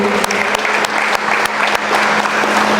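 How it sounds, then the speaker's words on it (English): Sustained applause from the audience at a coach's retirement celebration, steady dense clapping with a few sharper claps standing out, loud and close, with no voices over it. "Another round of applause for him."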